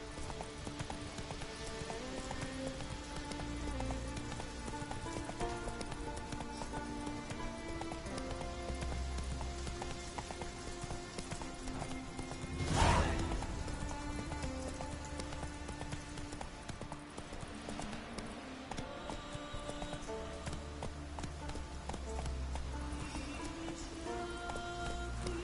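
Hooves of Roach, the horse in The Witcher 3, clopping at a steady pace over a game soundscape with music, a short loud burst in the middle.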